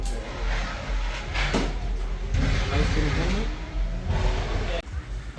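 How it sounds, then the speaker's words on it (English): A big diesel engine runs at a drift event in Ireland, a steady loud low rumble with some revving swells, with people talking over it throughout. "Just a big old diesel in the back."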